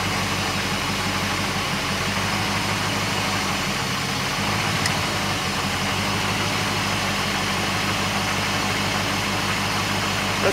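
A Porsche 928 engine with a high idle and a misfire idles steadily for several seconds, a low continuous hum with a faint rhythmic chug, close by and without talking.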